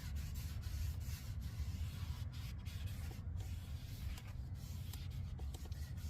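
Brake cleaner hisses from a spray can onto the brake parts of a 2012 Honda Accord, a steady, close, fairly quiet aerosol rush that runs unbroken for several seconds.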